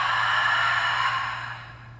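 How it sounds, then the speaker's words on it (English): A deep breath let out through the mouth during a yoga practice, one long, steady airy exhale that fades gradually toward the end, heard alone with a faint low hum beneath. "And exhale out through the mouth."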